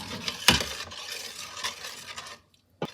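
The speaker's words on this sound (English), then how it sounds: "Give it a stir." A spoon stirs thick, creamy clam chowder with potatoes and butter in a pot, giving a few scraping clinks against the metal, soft swishing between, then a short quiet before one last knock.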